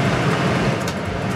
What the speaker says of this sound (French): Je m'excuse par avance des bruits de hotte.